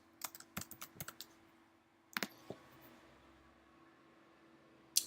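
Typing on a computer keyboard: a short burst of quick, light key clicks, then a few scattered taps and a final louder click, faint and close in a quiet room.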